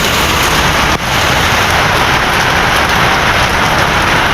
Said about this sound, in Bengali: এই দেখো বৃষ্টি পড়তেছে